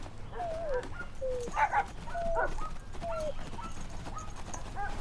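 Dog in a 2021 American thriller film whimpering and yipping in repeated high, thin cries, with one louder bark-like burst mid-clip, over low background rumble and no talk.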